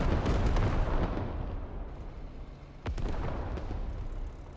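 Artillery fire sounds in a military video game battle over an urban compound, with heavy booming blasts rolling into a dense, rumbling barrage and sharp cracks on top.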